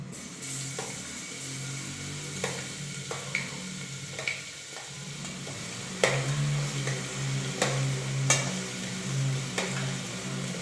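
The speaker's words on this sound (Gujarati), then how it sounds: "જીરું તતડે તરત જ એની અંદર જે આપણે શાક સમારી દીધું એ બધું અંદર એડ કરી દઈશું" Chopped vegetables sizzle with cumin in a pressure cooker, a steady fry with intermittent clinks and stirring scrapes, close and moderately loud, no talking.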